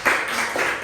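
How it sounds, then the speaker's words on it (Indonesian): Brief burst of clapping from a small group of students in a classroom, close and moderately loud, lasting under a second. "Tepuk tangan buat kalian semua ya."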